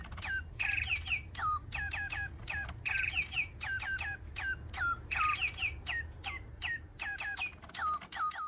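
A scarlet macaw gives repeated short, sharp chirping calls in quick bursts close by, over a low steady background hum.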